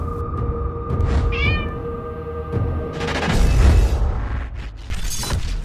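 A cat meows several times, with short rising cries heard near and clear between sharp crashes and clattering noises.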